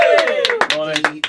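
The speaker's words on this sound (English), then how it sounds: "the Work With Schools Rent-A-Crowd team in the background going wild for their champ." A Work With Schools rent-a-crowd team in a quiz-show studio claps for their returning champion in a few sharp, scattered bursts, partly under a speaking voice.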